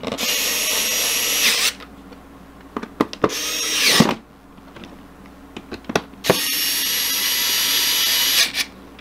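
A power screwdriver or drill tightens the screws while an Intel NUC barebone mini PC is assembled: three loud, close whirring bursts with short pauses and a few light clicks between them, and no talking.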